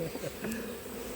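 Honey bees buzzing around an open hive during a honey harvest, a steady close drone with individual bees passing near, no talking.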